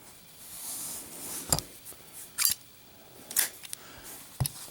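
A 1992 brass Zippo lighter clicking, its lid snapping several times at irregular intervals with sharp metallic clacks over quiet room noise, close and moderately loud.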